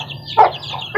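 A chicken gives a short, close cluck inside a chicken coop at dusk, amid soft, muffled farmyard background noise.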